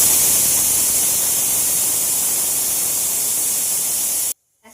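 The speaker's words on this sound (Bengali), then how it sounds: "এবার প্রেসার কুকারের ঢাকনাটা বন্ধ করে একটা সিটি দিয়ে নেব" A pressure cooker boiling jackfruit seeds lets out a loud, steady steam hiss, heard alone, that cuts off abruptly near the end.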